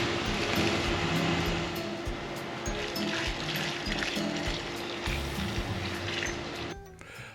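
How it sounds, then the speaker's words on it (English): Cement being poured and mixed with water for pergola post holes, a continuous gritty wet rush and trickle with some low rumbling, fairly close and steady, then an abrupt drop near the end. "So let's start pouring the cement."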